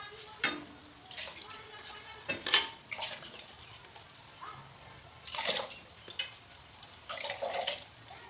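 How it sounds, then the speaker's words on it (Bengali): Washed rice tipped into a cooking pot a little at a time for home-made biryani, giving several brief wet clattering pours and metallic pot knocks, close by in a quiet kitchen. "এখন আমি চালগুলো হাঁড়িতে দিয়ে দেবো।"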